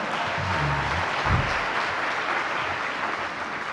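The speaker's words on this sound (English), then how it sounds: "let's clap for her" Audience applause at a keynote session for a World Championship handball medal winner, a loud continuous burst of clapping from a large crowd filling the whole moment.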